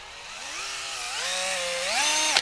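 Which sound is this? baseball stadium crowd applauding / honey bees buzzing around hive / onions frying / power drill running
power drill running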